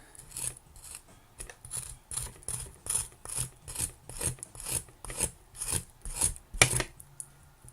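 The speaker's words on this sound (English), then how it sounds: "Now we have our seed. And you want to scrape off" Scraping a mango seed clean of fruit: a steady series of about a dozen rasping strokes in even rhythm, close and fairly quiet, with no talking.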